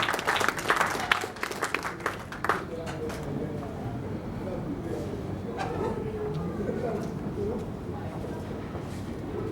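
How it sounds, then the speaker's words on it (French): A conference audience bursts into loud clapping that fades within a few seconds, followed by murmuring crowd noise and scattered voices. "Est-ce qu'on peut l'applaudir bien fort"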